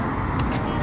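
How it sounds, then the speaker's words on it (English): Steady roar of traffic on a busy main road, heard from a vehicle stopped at the roadside, a dense continuous wash of passing cars with faint swells. "We're stopped on a main busy road"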